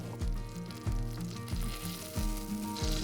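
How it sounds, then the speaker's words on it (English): Butter melting in a pan at the start of a roux for a sauce, a steady soft sizzle running beneath louder tonal background music with regular note changes. "In goes the butter"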